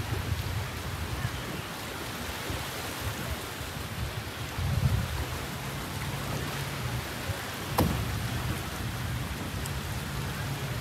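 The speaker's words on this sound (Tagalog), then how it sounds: "sakop tayo ng ulan" Steady rain falls outdoors near a floating dock, a dense continuous hiss with a low rumble underneath and a couple of sharper knocks partway through.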